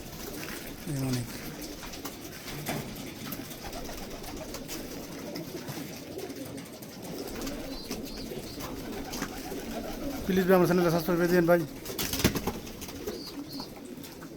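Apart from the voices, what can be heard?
many pigeons cooing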